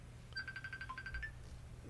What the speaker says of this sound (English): Are you getting a phone call